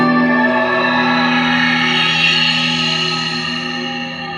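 Sustained guitar chords wash through a Meris Mercury7 reverb pedal with a pitch shift a fifth up, forming a dense shimmering drone with long even decay that slowly fades toward the end, no talking.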